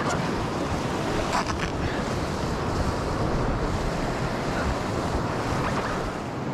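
Rapids on the Cardinal River, a steady rushing roar of fast water, loud and close, with wind buffeting the microphone and no voices.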